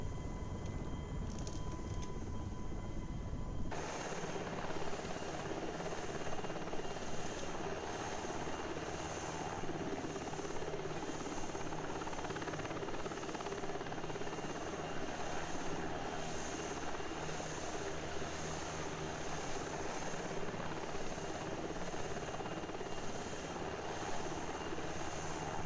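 Steady helicopter rotor and turbine drone in the FSX/P3D flight simulator game, a continuous pulsing whir that holds at even loudness throughout, with no talking.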